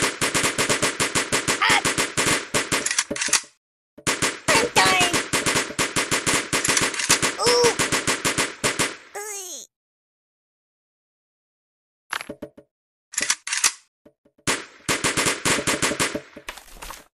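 Rapid electronic gunfire from a shooting range in the mobile game Kick The Buddy, loud and dense automatic bursts with brief gaps, one short whooshing sweep, a few seconds of silence, then more clipped volleys.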